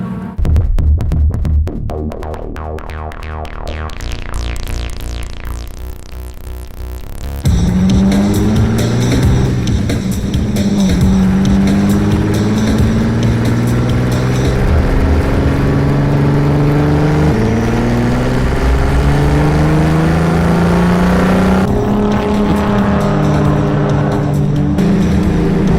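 The Rotsun race car roars around the track at the 24 Hours of Lemons, a loud, sustained engine drone rising and falling through gear changes, with shifting pitch as it runs hard and close.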